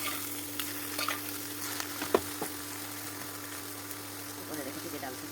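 Egg sizzling in a pan gives a low steady fry, with a few soft scrapes and taps of stirring against the metal and a faint hum underneath.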